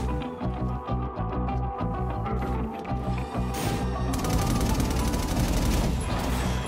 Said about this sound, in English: This is gonna be awesome! Automatic turrets!